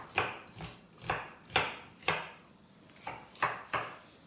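A knife chops red onions on a board in about nine crisp, evenly spaced strokes, close and fairly quiet, with no talking.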